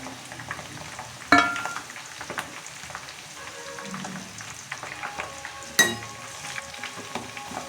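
Herbs sizzle in hot oil for a homemade hair oil: a steady crackling fry throughout, broken by two sharp clattering hits from being stirred or dropped in.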